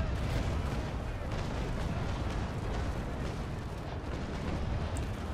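A naval warship's cannon broadside in the game Naval Action, heard as a dense, loud, sustained roar of rumbling blasts and booms that continues without pause.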